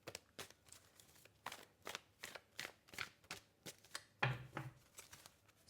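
Repeated crisp riffling and slapping of tarot cards being shuffled by hand, in quick uneven bursts close by, with no talking.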